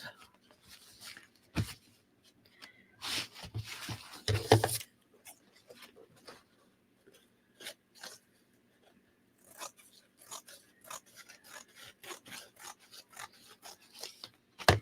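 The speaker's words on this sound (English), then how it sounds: "Using my fabric scissors because technically it is fabric." Fabric scissors cut grungy journal paper in a string of short snips and rasping slides, some in quick clusters, close and fairly quiet, with no voices.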